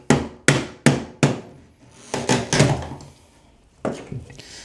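A hammer strikes a Goldblatt trim puller against a wall, giving a run of four sharp, evenly spaced metallic knocks, then a cluster of quicker taps and a final pair of hits.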